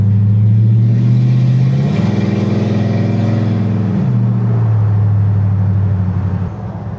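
LS-swapped 1971 Chevrolet C10 pickup with a loud exhaust, heard close up as a deep, steady droning rumble that rises and falls in pitch as the engine is revved and eased off, fading slightly at the end.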